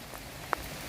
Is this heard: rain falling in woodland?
yes